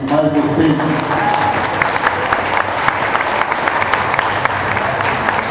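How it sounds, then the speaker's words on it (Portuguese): An audience applauds a speaker at a talk on the world economic crisis and solidarity economy, with steady, dense clapping throughout and some talk running underneath. "fico feliz de ser aplaudido"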